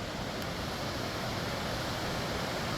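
Steady broadband rush of waterfalls pouring down below inside the Gilman Tunnels, a continuous close, even roar with no pauses and no voices.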